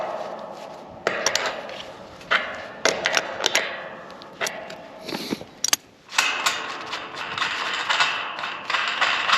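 Ratchet tightening bolts on a farm gate, with repeated bursts of clicking pawl sounds and metallic jangles between short pauses, close by.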